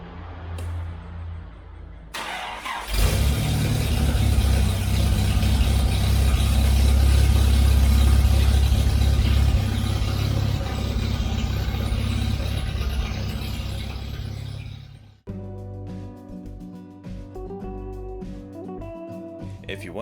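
Austin Healey engine running smoothly after its carburetors were balanced and color tuned, a loud steady drone that holds for about twelve seconds, then fades and gives way to quieter clattering sounds.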